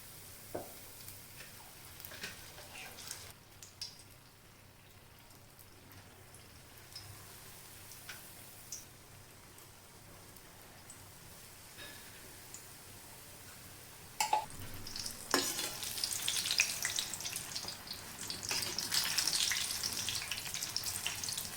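Green chillies coated in batter sizzle in hot oil for mirchi bajji. The frying hiss is quiet at first, then grows louder and steadier after a burst of crackle partway through, and there is no talk.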